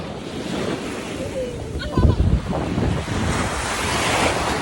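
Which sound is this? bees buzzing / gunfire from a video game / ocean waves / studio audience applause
ocean waves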